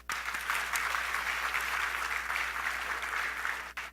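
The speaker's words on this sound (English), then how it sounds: "let's give them a round of applause, please." Steady crowd applause at a 2016 APC commencement ceremony honoring graduates, a dense, even patter of many hands lasting a few seconds before cutting off.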